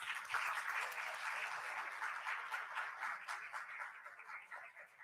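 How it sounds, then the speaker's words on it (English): Audience applauds volunteer singers after their performance at a poetry event, a steady wash of many hands clapping at moderate level for the whole stretch, slightly distant and fading a little toward the end. "Another big round of applause."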